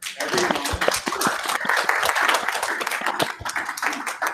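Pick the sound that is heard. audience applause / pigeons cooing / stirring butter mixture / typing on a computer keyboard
audience applause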